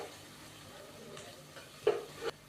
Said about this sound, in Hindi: अदरक और लहसुन के पेस्ट को हल्का सा फ्राई करेंगे ताकि इसका कच्चापन ख़त्म हो जाए।